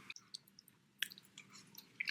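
Close, faint crunchy chewing of kimchi wrapped in roasted seaweed, with scattered crisp bites and soft squishy mouth sounds over about two seconds, no talking.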